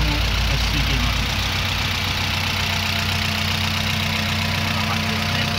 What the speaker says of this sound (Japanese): 結構ねエンジンの音なんかは静かですね。 アイドリングも落ち着いています。